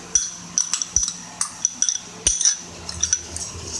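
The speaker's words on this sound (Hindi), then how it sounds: "आप इसको मिक्स करें।" A spoon stirs shredded chicken together with fried, spiced vegetables, making sharp metallic clinks and taps on the dish that come in irregular bursts close by.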